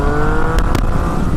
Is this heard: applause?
no